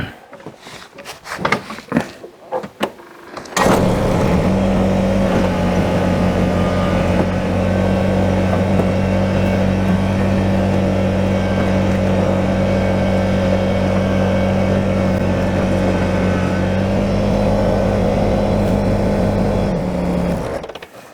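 Small tractor pulling a donor truck out of a residential driveway, its engine settling into a loud, steady, even hum for nearly twenty seconds after a few scattered knocks and thumps.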